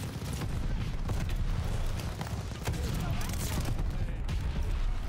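Grenade blast and gunfire in the Call of Duty Vanguard shooter, a dense burst of rapid shots and booms filling the whole stretch, loud and continuous, with a player's voice talking over it.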